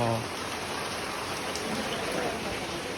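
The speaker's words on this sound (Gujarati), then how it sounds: "જબ્બર વરસાદ ચાલુ થઈ ગયો" Steady heavy rain falls, a dense hiss of drops hitting surfaces nearby, continuous throughout with no talking.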